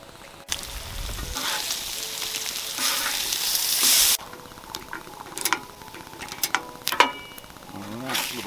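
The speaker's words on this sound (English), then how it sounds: "Put some bacon on." Bacon frying in a pan on a camping trip, a hissing sizzle that swells when the strips go in, then settles under clicks and knocks of handling, fairly close with a little talk.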